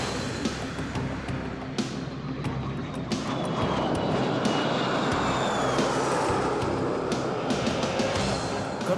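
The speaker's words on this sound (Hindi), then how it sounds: "वर्ष फ्लाई पास्ट में वायुसेना के 29 लड़ाकू विमान, 8 मालवाहक विमान, 13 हेलीकॉप्टर और एक धरोहर विमान सहित कुल 51 एयरक्राफ्ट" Indian Air Force jets, transport planes and helicopters roar overhead in a Republic Day flypast above Kartavya Path, a loud sustained rumble with rising whine and scattered crowd and ambient noise, no voices.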